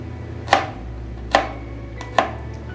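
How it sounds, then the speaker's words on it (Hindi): Three sharp knife chops through cabbage on a cutting board, spaced evenly and close, over a low background hum with no talking. "बंद गोभी काट लेंगे।"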